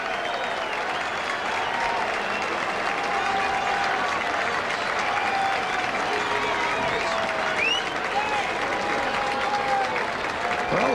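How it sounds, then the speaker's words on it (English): Crowd of mostly Mets fans at a 1993 Rockies–Mets baseball game applauding Dante Bichette's home run, a steady, dense wash of clapping and crowd noise sustained throughout, with broadcast commentary faintly underneath. "the fans here are primarily Mets fans, but they applaud the efforts of Dante Bichette as he hits the first home run"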